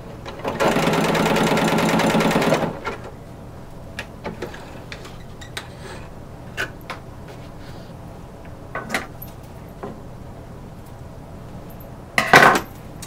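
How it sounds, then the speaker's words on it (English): A sewing machine runs a wide, short-length zigzag satin stitch while making corset bone casings, one loud steady burst of about two seconds at the start, then quieter handling clicks and knocks and a brief sharp clatter near the end. "So I'm making the zigzag as wide as possible, and I am shortening the stitch length."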